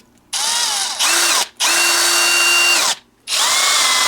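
A Teccpo 1/2-inch brushless cordless drill runs in first gear in three close, loud bursts, its motor whine spinning up and down between short pauses.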